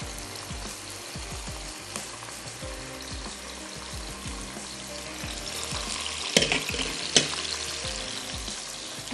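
Chicken and pasta frying in a pan, a steady sizzle with repeated scraping and knocking of a utensil against the pan and a couple of sharper clanks near the end.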